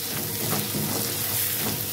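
Masala of chilli, cumin and coriander powder fries in a pan with a little warm water, giving a steady, close hiss with no pauses.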